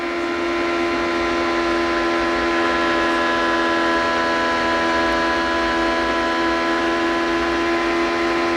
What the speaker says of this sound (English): You can hear the engine running so strong right now.